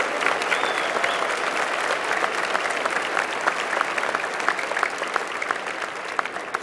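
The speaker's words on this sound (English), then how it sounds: "Give them a round of applause for what they've done to help you get to where you are." Large audience applauding at an engineering school commencement ceremony, with dense, sustained clapping and scattered louder individual claps standing out near the end.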